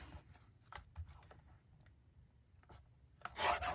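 Paper card edges are trimmed with soft, close rubbing and scraping strokes at a very low level, ending in a brief louder rustle.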